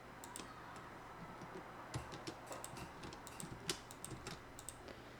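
Keys being pressed on a computer keyboard while working in an Excel spreadsheet, a quiet scatter of light, irregular clicks close to the microphone with a low steady hum beneath.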